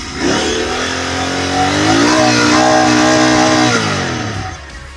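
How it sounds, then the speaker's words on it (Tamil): A motorcycle's exhaust revs up close while the bike sits stationary. The engine note climbs to a sustained high-revving drone, holds, then drops back toward idle, loud and alone without talk. "எக்ஸாஸ்ட் சவுண்டு கேட்போம்."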